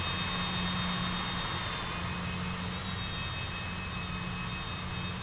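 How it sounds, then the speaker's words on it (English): Twin jet engines of a Citation CJ3 running up after start in Microsoft Flight Simulator 2024, a steady loud turbine roar with a high whine held throughout, no voices. "looks like we got a good start on both engines there"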